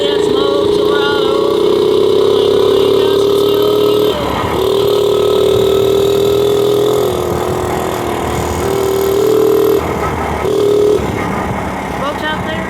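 A mini bike engine drones loudly and continuously while being ridden, its pitch rising and dipping as the throttle changes, close up and dominating throughout.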